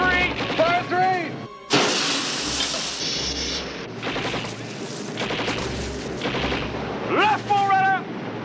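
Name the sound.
naval guns firing at point blank range in war film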